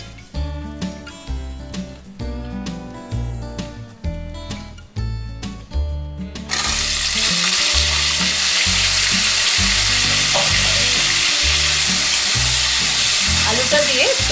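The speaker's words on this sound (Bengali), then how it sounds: "এবার আমি যেটা আলু কাটা আছে সেই আলুটা দিয়ে দিচ্ছি।" Cut potatoes tipped into a hot frying pan with prawns and Malabar spinach, rhythmic music first, then a sudden strong sizzle that stays loud and steady.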